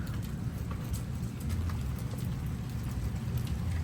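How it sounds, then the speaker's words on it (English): Hail falling during a severe storm, a dense steady patter of stones striking the ground and nearby surfaces, continuous and fairly loud throughout with no talking. "Oh, here it comes. I think this is the hail."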